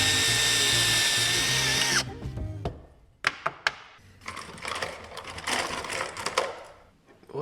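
A power drill whines loudly at high speed drilling holes in an aluminium seat, then stops; scattered clicks and knocks follow before the drill runs again, rougher and grinding.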